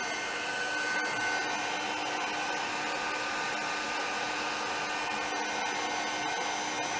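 A dryer blows steadily and evenly, drying the backs of galaxy cards made with ColorSparx and Stardust Butter, a continuous airy whoosh throughout with no pauses.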